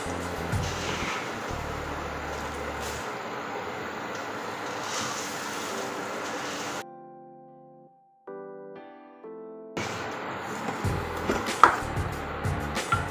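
Puffed rice roasts in hot oil for chevdo, a steady crackling sizzle that stops briefly for a short musical interlude, then resumes.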